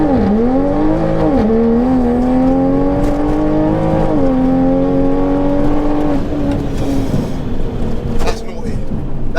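A 760 bhp MK5 Toyota Supra pulling hard from second gear with traction control off, a loud close engine drone rising steadily in pitch with a brief dip at a shift, heard from inside the car as a voice speaks briefly.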